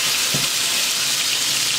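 Boiled sweet potato gnocchi sizzle in a pan of brown butter with a loud, steady, hissing fry. A brief low clunk of the pan or utensil comes early, and nobody speaks.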